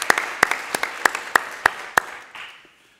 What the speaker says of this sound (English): So please join me in a round of applause for Anthony on his retirement